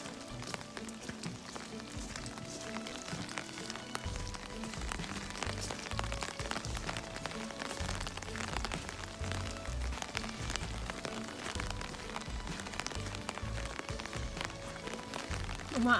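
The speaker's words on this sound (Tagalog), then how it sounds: "Umaambon po ngayon mga kaibigan." Light drizzle falls outdoors at a camping and fishing spot on Kvaløya near Tromsø, Norway, a soft continuous patter with scattered drop ticks throughout, fairly close and even.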